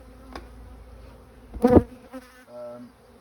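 Honeybees buzz faintly around an opened hive during an inspection, with a brief louder burst of a single bee passing close to the microphone.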